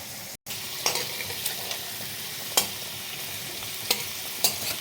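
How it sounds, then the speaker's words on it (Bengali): Tangra fish frying in mustard oil sizzle steadily in a pan, a constant hissing crackle broken by sharp spitting pops and a few stirring scrapes. "আর এর মধ্যে আমি একটু সরষা তেলও নিয়ে নেবো, কেন ট্যাংরা মাছগুলো তো তেলে ফাটবে"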